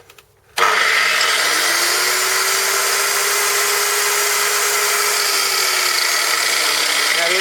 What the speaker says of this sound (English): This sort of grinder is not a toy.